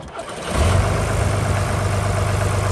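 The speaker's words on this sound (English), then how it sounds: "tractor starts up, runs good" A 1983 John Deere 2950 tractor engine cranks briefly on a cold Iowa day, then catches and settles into a steady, loud low rumble of idling close by.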